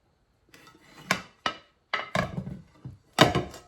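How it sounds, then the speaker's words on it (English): A pan of cornbread is flipped out onto a plate, a handful of separate knocks, scrapes and clatters of metal and dishware with pauses between, close and moderately loud. "See if this cornbread will flip out like it's supposed to."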